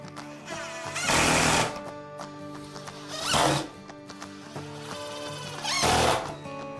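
A CNC router with an end mill cuts into plywood, the loud bursts of cutting noise recurring three times over a steady mechanical hum of the running spindle.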